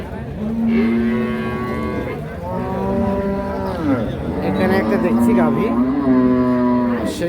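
A two-tooth-age Holstein Friesian dairy cow on a farm lets out several long, loud, close moos in sequence, each deep and drawn out, with no talk over them.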